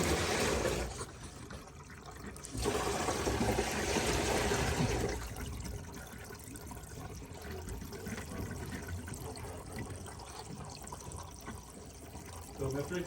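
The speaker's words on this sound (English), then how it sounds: "pouring that down the drain" Water is poured down a bathtub drain in a bathroom, a steady rushing gurgle that swells briefly and then settles into a lower continuous flow, with a person talking faintly underneath.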